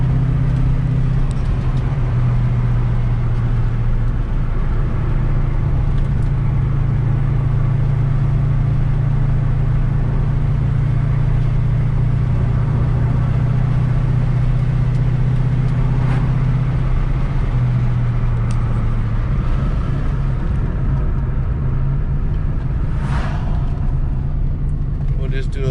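A 1993 Cobra engine rumbles steadily from inside the car while it drives and eases into gentle acceleration, a loud continuous drone throughout.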